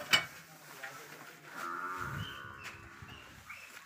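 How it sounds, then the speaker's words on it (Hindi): Buffaloes lowing on a village dairy farm, a sharp short call near the start followed by a long drawn-out moan, close by with faint farmyard background. "मेरी भैंसें कुछ चल रही हैं यहाँ पे"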